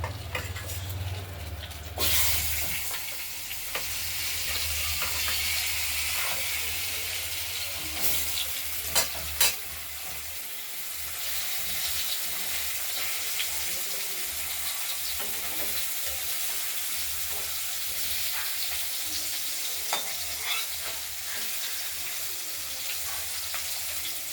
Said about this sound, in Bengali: কেটে রাখা আলুগুলোকে ভেজে নেব।